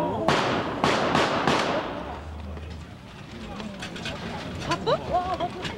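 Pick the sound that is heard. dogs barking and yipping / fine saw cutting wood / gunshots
gunshots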